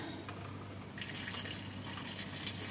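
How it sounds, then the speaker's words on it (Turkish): Boiling water is poured into jars packed with peppers, a continuous soft gushing that grows brighter partway through, with no voices. "Biberler soğuk olduğu için bunu bu kaynarda öyle sıcak sıcak döküyoruz."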